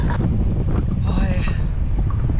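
Wind gusts across the Elbe river during stand-up paddling, a steady rumbling buffet against the microphone with a brief voice mixed in.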